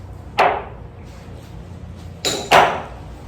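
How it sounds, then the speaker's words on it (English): Bolts being removed from an engine during a rebuild give three sharp, close metallic clacks: one early, then two in quick succession near the end, over a quiet background. "Now, let me remove the bolts."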